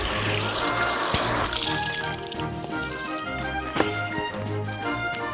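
Water gushes from an unclamped hose connection at a wilderness home-build solar setup, loud and rushing at first, then settling into a steadier spray alongside a faint electrical hum.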